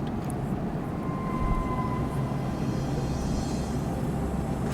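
Steady airliner cabin roar during descent into Amsterdam from cruising altitude, a loud continuous low rumble with engine whine and no voices.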